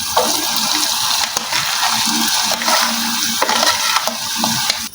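Boiled papaya pieces stirred into melted sugar in a pan, a steady bubbling sizzle with repeated scraping stirs, fairly loud and continuous.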